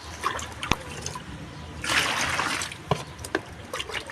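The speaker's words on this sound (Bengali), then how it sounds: "আস্তে আস্তে আমরা 10 মগ মতো জল নিয়ে নেব।" Water poured by mug into a bucket while making a liquid plant fertilizer: a watery splash and trickle with one fuller pour in the middle, surrounded by small clinks and drips, close by, with no talking.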